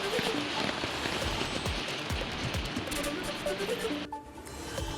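Heavy monsoon rain in Washim district, Maharashtra, hisses steadily across surfaces, with scattered patter and a faint voice in the background before the downpour briefly eases.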